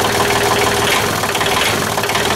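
A small gas engine on a leaf blower idles steadily, a loud, dense buzzing rattle with an even pulse throughout the short stretch and no speech over it.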